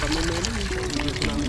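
Water runs steadily with a broadband rush, as from a faucet, while people talk over it nearby.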